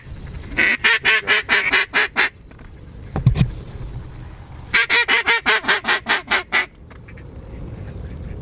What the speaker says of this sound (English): There's a shit ton of ducks coming right now.